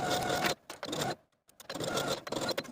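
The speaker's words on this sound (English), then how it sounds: "Sew the crotch curve with a 3/8 inch seam allowance" Sewing machine stitching a jumpsuit crotch curve seam, running in a close, loud whirring burst, pausing briefly with a few clicks, then whirring again.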